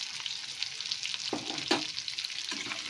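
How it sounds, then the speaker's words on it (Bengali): Chopped onions and capsicum fry in a pan with a continuous soft sizzle, punctuated by a few short stirring scrapes, with no talking. "পেঁয়াজটা ক্যাপসিকামটা ভাজা ভাজা হয়ে এসছে"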